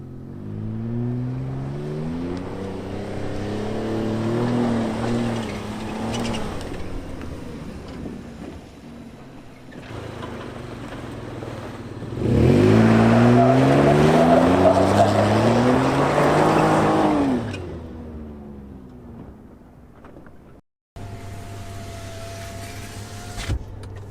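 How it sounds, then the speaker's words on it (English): A Chevy Colorado ZR2 truck off-road revs in surging, rising and falling bursts as it is left-foot braked to spin the tires, loudest in the middle, with a short drop-out before a steadier drone. "Left foot brake just to get the tires spinning a little bit better"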